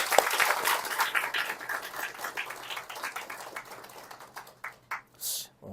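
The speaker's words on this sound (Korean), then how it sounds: "감사와 격려의 박수 한번 보내드릴까요?" Congregation applause in a church service, a clatter of many hands clapping that gradually thins out into a few separate, sharper claps near the end.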